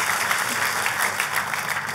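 A church congregation applauding during a sermon, dense, continuous clapping that fills the room at moderate volume, with no clear speech over it.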